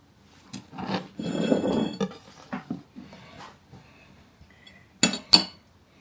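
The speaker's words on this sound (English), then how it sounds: "I'm going to cut a slice," A knife cuts a slice of coconut and jam cake, with a soft rasping drag through the sponge followed by a few light clinks of metal against a plate, close and quiet.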